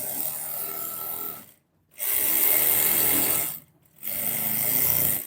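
A sewing machine stitches the armhole seam of a kameez in two brief stops and starts, a close, rapid mechanical whirring buzz running in bursts separated by short silent gaps.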